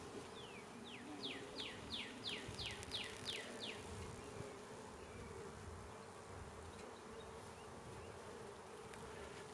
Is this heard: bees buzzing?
yes